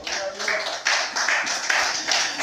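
Church congregation at a Wednesday worship service clapping hands together in steady rhythmic bursts, loud and close, with a speaking voice running over the clapping.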